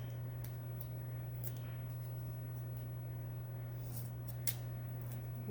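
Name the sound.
small scissors cutting cured resin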